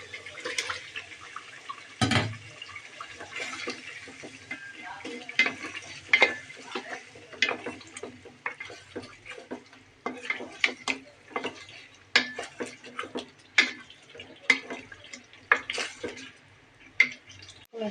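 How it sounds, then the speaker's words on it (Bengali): Meat cooking with yogurt in a pot for biryani, heard as repeated sharp clinks and scrapes of a utensil stirring against the pot over a faint, steady sizzle, with one louder knock early on. "টক দইগুলো ঢেলে দেবো। মাংসগুলো দিয়ে দেবো।"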